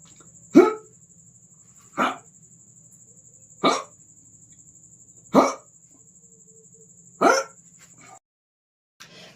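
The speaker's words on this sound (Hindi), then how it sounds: "हिचकी लेना के इंग्लिश बोलेंगे हिकअप" A person hiccups five times at even intervals of about a second and a half, each hiccup a sharp, close, isolated gulp over a faint steady background tone.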